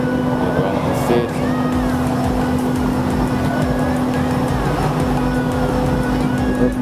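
Inside the engine room of a ship in Aceh, a loud, continuous mechanical drone holds steady with a strong low hum and rumble, filling the space without pause.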